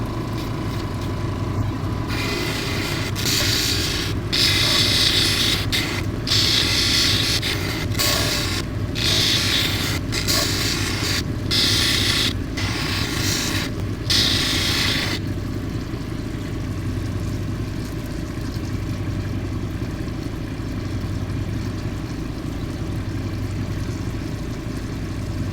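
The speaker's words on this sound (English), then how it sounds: "This is the 600 grit wheel." A 600 grit sharpening wheel grinds at a loud, steady hum, with a series of sharp rhythmic rasping passes over the first fifteen seconds before the motor runs on alone.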